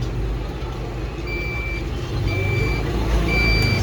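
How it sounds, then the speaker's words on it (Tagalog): Deye hybrid inverter sounding its alarm over a no-battery setting: a steady series of high electronic beeps, each about half a second long, repeating at roughly one-second intervals over a constant low hum of nearby equipment. "nag-a-alarm siya kasi nga hindi pa natin nabago yung setting na no battery"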